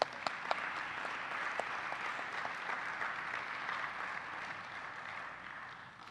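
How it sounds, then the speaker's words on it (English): A graduation audience gives students another round of applause, a sustained, fairly soft wash of clapping with a few sharper individual claps near the start. "Let's give our students another round of applause."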